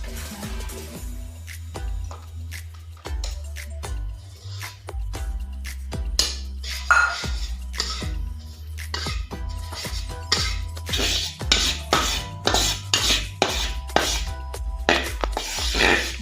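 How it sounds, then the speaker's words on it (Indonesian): Sago starch is dry-roasted in a wok on a stove, producing scraping, clinking and rustling that grows busier and louder over time, with irregular metallic taps and stirring under a steady low hum. "Pati ini akan disangrai terlebih dahulu selama 15 menit. 15 menit dihitung sejak meletakkan kuali ke kompor."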